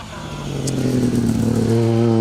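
A rally car pulls away up a straight on a stage of the Colin Ellmore Memorial Rally, its engine note climbing steadily and loudly as it accelerates.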